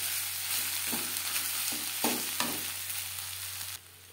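Mashed potato for aloo vorta is stirred in a pan over low to medium flame, a soft continuous sizzle broken by several distinct scraping strokes, close and without talk.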